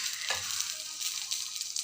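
Chillies, onion, dried coriander and tamarind fry in a pan, giving a steady close hiss and sizzle with a brief stirring scrape near the start.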